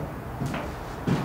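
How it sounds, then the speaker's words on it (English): A door in a house opens or closes with a soft click and a dull thud, two brief close knocks with no talk. "What was the door?"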